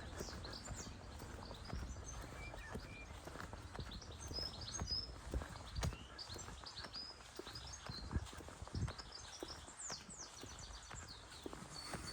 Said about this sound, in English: Oh, you can hear the birds twittering.